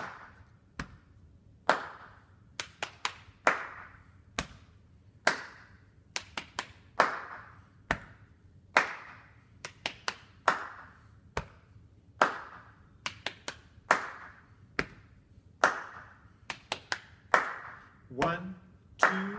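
Body percussion routine of chest taps, hand claps and leg slaps played in a repeating pattern, crisp close hits in steady rhythm with brief pauses between phrases, no voice over most of it.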